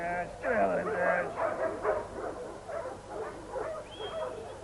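Working farm dogs yip, whimper and bark in an excited overlapping cluster at close range, with a voice talking over them outdoors.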